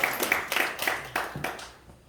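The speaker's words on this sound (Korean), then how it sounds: "박수 한번 드립시다." A church congregation claps in a short burst of separate, uneven hand claps that thin out and fade within about two seconds, fairly quiet in a reverberant room.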